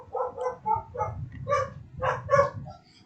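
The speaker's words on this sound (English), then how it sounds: "I'm sorry, Sprinkles, that's just my dog." A dog barking close by in a series of five or six sharp, evenly spaced barks and yips, loud and alone without talk.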